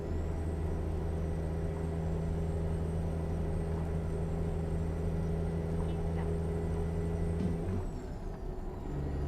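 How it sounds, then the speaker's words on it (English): A loud, steady heavy-truck engine drone with strong low rumble and a thin high whine, running continuously in a trucking game, easing slightly near the end. "It's just the truck so loud."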